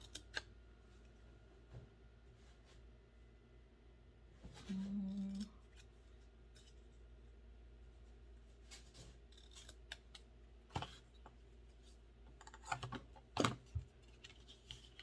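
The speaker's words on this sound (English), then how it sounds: "then I'm gonna cut a small tail" Small scissors snip a short paper tail for a pop-up card, faint scattered clicks and cuts in a quiet room, with a brief low beep partway through.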